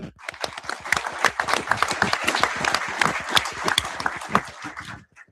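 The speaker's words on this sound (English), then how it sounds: "please join me in giving this group a round of applause" Audience applause for utility employees and the board at an electric cooperative's annual meeting: a dense, continuous burst of many hands clapping in a hall, moderately distant, fading out at the end.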